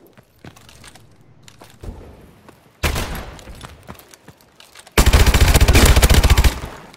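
Gunfire from the KF5 in Call of Duty: Advanced Warfare: scattered single shots at first, then a loud crack, followed by a sustained, punchy automatic burst that rattles on for several seconds.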